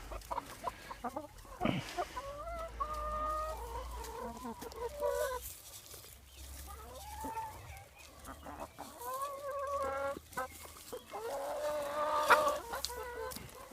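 Chickens cluck and chatter close by for the whole stretch, with scattered squawks and a louder burst near the end, no talking.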